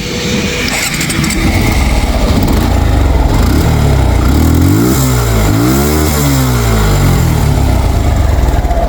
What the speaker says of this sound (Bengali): এখন হচ্ছে বাইকের আমি স্টার্ট করে সাউন্ড কন্ডিশন দেখো